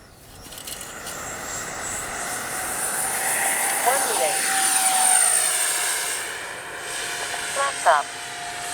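A radio-controlled Freewing F-14A Tomcat with twin 64mm electric ducted fan jets, taking off with a steady high whine that swells and shifts pitch as it passes, loud and close, then recedes over open outdoor ambience.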